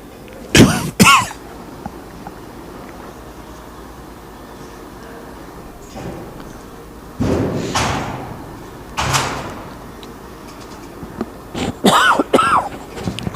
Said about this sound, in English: Tried not to cough into the mic.